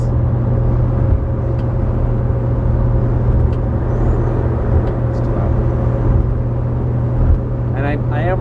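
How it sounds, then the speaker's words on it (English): Inside a Plymouth Valiant cruising at highway speed with the windows closed, a steady low engine and road drone hums continuously, and a voice comes in briefly at the very end. "Alright guys, we're on the highway, we're at highway speeds."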